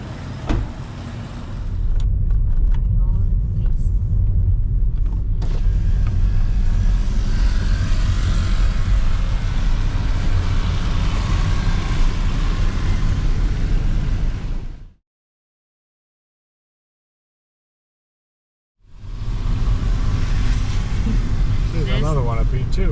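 A car drives at night through the streets of Tagum City, with a steady, loud road and engine rumble heard from inside the cabin. People talk over it, and the sound briefly drops out before the drive resumes.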